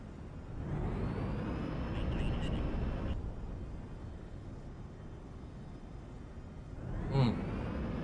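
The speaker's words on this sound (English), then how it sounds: "Ooh, we are cleared for takeoff." A video-game airliner rolls down the runway for takeoff, its steady broadband jet engine roar holding loud and constant, with a brief swell partway through, while someone talks over it throughout.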